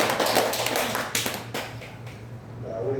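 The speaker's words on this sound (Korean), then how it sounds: "우리 박수 한번 해주세요" A church congregation bursts into a round of clapping during a Sunday service, dense and close at first, then thinning out and trailing off.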